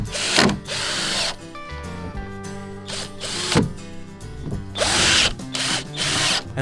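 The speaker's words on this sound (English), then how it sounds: "we screw OSB board scraps to the bottom of the frame" Power drill driving screws through OSB board scraps into the bottom of a floating house frame, several bursts of whirring rising and stopping, with ratcheting clutch clicks and short pauses between screws, close and loud.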